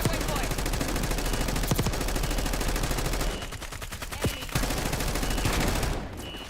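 Gunfire in a video game: rapid, sustained automatic bursts fill the sound, with sharp individual shots cutting through and a short lull partway before the firing resumes.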